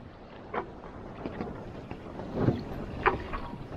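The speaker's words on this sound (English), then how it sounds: "we're just getting out of the bay here, and the wind is pretty nice" Sailboat heading out of a bay on open water in a fair breeze, with steady wind noise on the microphone and a few soft water splashes and hull knocks, no talking.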